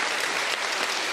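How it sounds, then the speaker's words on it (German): Dense, steady applause from a studio audience at a Schlager TV show, loud and continuous, with no talking over it. "Das ist dein Applaus"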